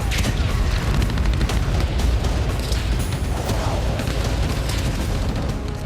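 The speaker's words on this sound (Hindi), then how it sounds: "खेरसोन में रूसी सेना ने X-39 मिसाइल से हमला किया।" A Russian X-39 missile strikes a building used as a Ukrainian forces base in Kherson. Heavy booming blasts and rumbling debris fill the whole stretch, loud and close, with no speech.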